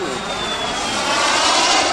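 Engine of an ultralight jet airplane during aerobatic flight, a loud continuous roaring whine with a faint rising tone, close by and steady for two seconds.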